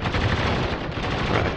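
Heavy battlefield gunfire in the shooter video game Spec Ops: The Line, a dense continuous roar of overlapping shots and blasts, loud and close with no voices over it.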